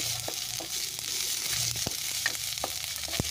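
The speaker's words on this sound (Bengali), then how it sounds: "এবারে হালকা একটু ভেজে নেব।" Onion with ginger-garlic paste frying in a pan for chicken tikka masala, a steady close sizzle with several sharp stirring scrapes and clicks spread through it, no talking.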